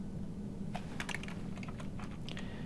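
Keys on a computer keyboard are tapped in a quick irregular cluster of light clicks, arrow keys nudging a shape around, fairly close but soft over a steady room hum, with no voices.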